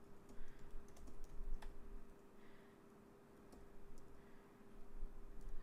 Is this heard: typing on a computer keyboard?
yes